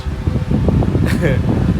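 The small fan of a homemade ice air cooler whirs steadily nearby, a constant low hum under someone speaking over it.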